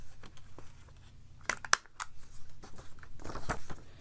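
Scissors cutting the corners off a paper card for a vintage Christmas craft: a couple of crisp, close snips near the middle, with soft paper rustling and handling around them in an otherwise quiet room.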